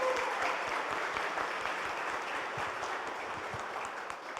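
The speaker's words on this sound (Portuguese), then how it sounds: "Palmas para a equipe do Ministério Infantil Pequenos Brilhantes" A church congregation claps for the children's ministry team, a dense, steady burst of applause that fills the room and tapers slightly over a few seconds.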